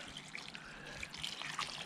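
A soft, steady trickle of water pouring into a pool at a country dacha, faint and continuous, with small splashy bursts and no talking.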